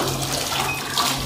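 Steady rushing water from a Jaguar diverter tap, a continuous splashing hiss with no voices, fairly close.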